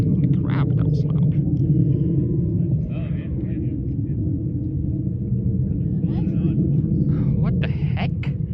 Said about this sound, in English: What kind of plane would make that loud of a sound?